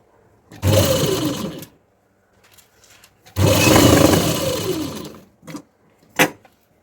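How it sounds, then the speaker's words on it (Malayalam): A sewing machine stitching along the edge of a saree blouse piece: two loud, sustained whirring runs of about a second each, separated by quieter gaps with brief mechanical clicks and short bursts. "അതിൻ്റെ എഡ്ജിലൂടെ വേണം അടിക്കാനായിട്ട്."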